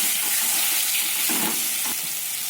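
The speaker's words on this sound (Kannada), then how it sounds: "Fry this well in medium to low flame." Ground mango chutney frying in a pan over medium-low flame with curry leaves, turmeric and asafoetida, a steady broadband sizzle with faint stirring scrapes, fairly close and continuous.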